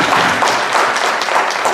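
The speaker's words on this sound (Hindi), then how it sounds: "इनके लिए जरा जोर से तालियां बजा दीजिए" An audience of teachers gives a short burst of dense, steady clapping at a programme, close and loud with no voices on top.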